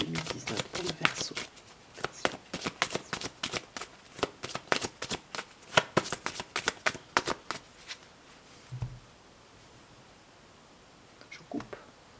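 Tarot cards are shuffled in a quick run of crisp riffling flaps and taps, close and fairly quiet, then a couple of softer card handling sounds.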